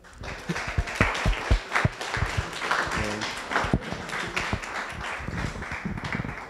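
Audience applause at a coding bootcamp demo day in Mauritius, a mix of sharp individual claps and a fuller crowd patter that carries on for several seconds with uneven, fluttering rhythm.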